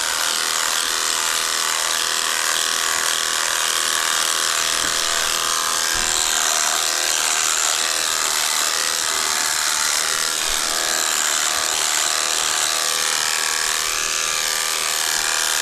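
An electric razor buzzes steadily through a beard during a live shave, a continuous close-up hum with brief shifts in pitch as it moves across the face, with no talking.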